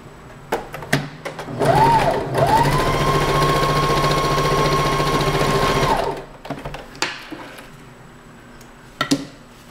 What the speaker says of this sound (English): I'm just going to top stitch it because you're not going to see it